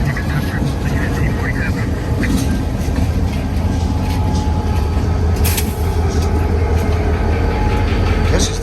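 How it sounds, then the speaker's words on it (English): A low, steady rumble of a heavy train passing nearby in a BNSF rail yard fills the scene, with a faint whine above the constant mechanical roar. "Got a train behind them, too."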